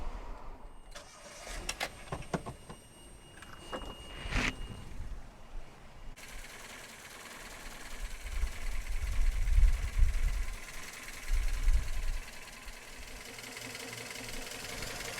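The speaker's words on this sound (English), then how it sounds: "Now we're going to turn on the engine, and we'll let you see how this timing belt works on the pulley" A Toyota Tercel engine with its timing cover removed cranks and catches a few seconds in, then settles into a steady, rumbling idle with the timing belt spinning on its pulley, heard close with no talking.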